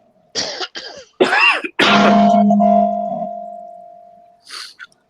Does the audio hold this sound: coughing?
yes